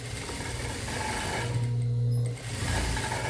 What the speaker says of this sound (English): you turn it around and sew the other side. Make sure you're always backing up your stitch.